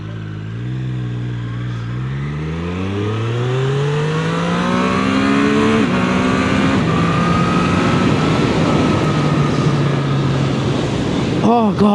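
A Triumph Street Triple 765 RS motorcycle accelerates hard through four gears, its engine pitch climbing steeply and dropping at each quick upshift, loud and close with strong wind rush throughout.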